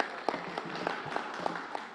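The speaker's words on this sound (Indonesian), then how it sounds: "Kita berikan tepuk tangan yang meriah" Audience applause at a political gathering between the PDI Perjuangan and PAN parties: a steady, fairly faint wash of clapping with sharper hand claps standing out at a regular beat.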